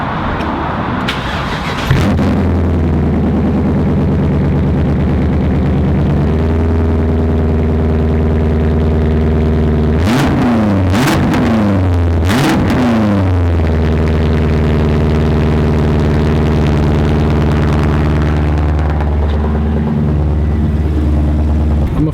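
A car at the Elmia 2019 car show in Sweden, its engine cranking and catching, then settling into a loud, steady idle close by, broken by several sharp revs around the middle and a smaller blip near the end.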